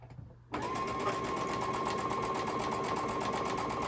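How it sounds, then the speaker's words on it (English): A sewing machine stitching quilt rows together starts after a half-second of quiet and then hums steadily and closely with a fast rhythmic needle chatter. "sewing my rows together"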